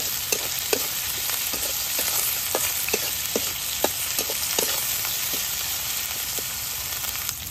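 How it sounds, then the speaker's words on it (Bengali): Chopped onion, crushed garlic and salt fry in hot oil with whole spices in a kadai, a continuous close sizzle punctuated by regular clinking stirs of a spatula, with no talking. "একটু ভেজে নই।"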